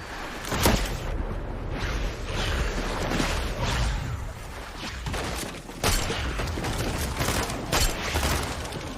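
Repeated rifle shots from a DMR in a Fortnite battle royale match, sharp cracks scattered across a busy, dense game soundscape with building and movement noise, fairly loud throughout.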